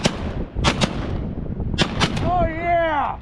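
Several sharp shotgun blasts crack at close range during a New Year's Day duck hunt, coming in quick pairs, followed by excited voices calling out.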